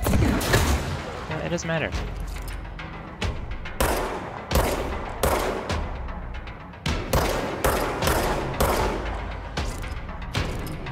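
Rapid gunfire bursts from combat in the video game Control crack out repeatedly, loud and close, with short pauses between volleys, while a voice talks briefly over the shooting.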